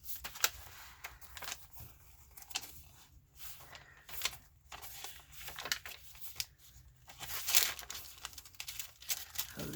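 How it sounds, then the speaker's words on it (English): Close, crisp crinkling and crunching of thin paper being handled, in irregular bursts with short quiet gaps. "I love the tracing paper. Good and crunchy."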